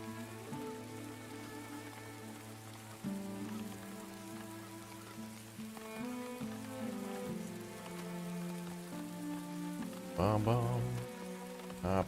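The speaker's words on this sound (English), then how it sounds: "Oh, it's raining again." Rain falls steadily in the medieval town-building game Farthest Frontier, a soft continuous patter mixed under the game's layered background music, fairly quiet throughout.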